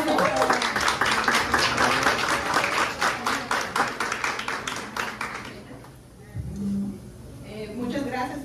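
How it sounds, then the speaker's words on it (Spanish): Loud, dense applause from an audience at a Dominican chamber of commerce award ceremony, sustained for about five seconds before dropping away, followed by a few spoken words. "¡Fuerte el aplauso!"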